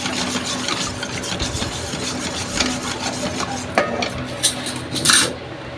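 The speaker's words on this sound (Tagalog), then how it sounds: "haluin ang haluin po natin kasi mag uh, sisink yung saba part dyan sa ilalim" A spoon stirs kutsinta batter made with lye water and keeps it mixed so the heavier part does not settle to the bottom. The scraping swirl runs steadily and close, with a few sharp clinks against the bowl near the end.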